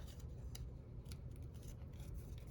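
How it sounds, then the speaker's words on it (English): Scissors snip out a small section of paper for a junk journal, a few soft, quick close cuts over a faint, quiet room hiss. "see if I can also get just the smallest amount of this little section cut out"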